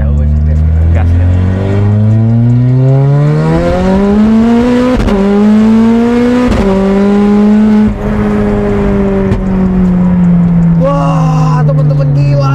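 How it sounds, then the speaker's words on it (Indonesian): A VW Scirocco R with all-wheel drive and an engine of roughly 800 horsepower revs hard and close, its loud engine note climbing and holding high before easing off, with talk briefly heard near the end. "Kita ngegas sekali lagi, nanti putar, stop"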